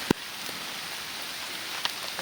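Steady downpour in a forest gives a continuous even hiss with no talk, broken only by a couple of sharp knocks or drips, one right at the start.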